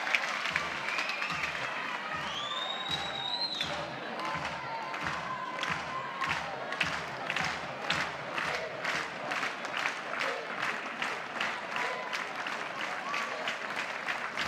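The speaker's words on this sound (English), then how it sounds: "Crowd anticipating a strikeout, and they get it." Stadium crowd at an NCAA college softball game between Oklahoma and Texas A&M Commerce, cheering loudly with steady rhythmic clapping throughout, a dense roar of many voices and hands.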